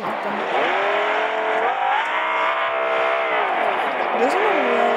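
A car in Fortnite drives with a continuous, fairly loud engine whine whose pitch rises and dips as it accelerates and turns, with people talking over it.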